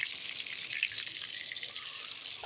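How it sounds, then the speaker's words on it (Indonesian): Tofu frying in hot oil in a new pot, a steady faint hiss and crackle of sizzling that carries evenly throughout with no voices. "Nanti kalau telurnya udah matang semua, baru deh kita goreng tahunya."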